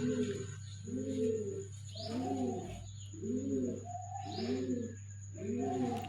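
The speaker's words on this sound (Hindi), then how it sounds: "और कबूतर सुबह सुबह बोल रहे हैं।" Pigeons coo in the morning in repeated soft, throaty phrases with a steady rhythm, close by, over a constant low hum.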